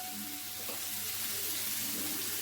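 Chopped onions frying with a little salt in a pan give a quiet, steady sizzle that swells slightly as they are stirred.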